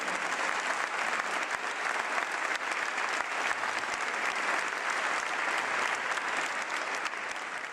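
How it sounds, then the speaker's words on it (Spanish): A church congregation claps loudly and continuously, a dense wash of applause that stays even for several seconds with no voices on top. "Dale un fuerte aplauso al Señor."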